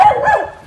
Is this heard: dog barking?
yes